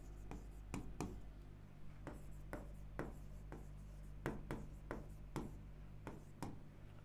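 A pen writing a letter in Marathi on paper, heard as scattered light scratches and taps over a steady low electrical hum, close and faint with no talking.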